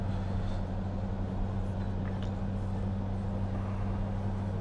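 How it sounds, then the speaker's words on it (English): Steady low road and engine rumble fills the cabin of a 2018 Dodge Durango SRT while driving, a constant drone with no voices heard. "It's the cabin as we're driving along"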